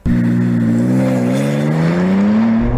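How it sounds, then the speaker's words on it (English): BMW M4 Competition accelerating hard from a standstill to 60 mph, its engine note climbing steadily through the revs, loud and close with no talk. "I've timed a normal M4 competition and did 0 to 60 this quickly."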